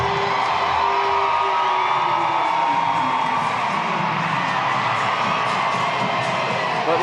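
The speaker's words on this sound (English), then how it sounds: "moment for Bill Lee, returning to Banana Ball in front of a raucous crowd here in Fenway" Raucous crowd at Fenway Park cheers and whoops throughout a Savannah Bananas Banana Ball game, a dense, sustained roar with high shouts rising above it.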